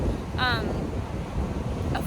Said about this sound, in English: I have to say this just because the waves are coming in, and we've got an audience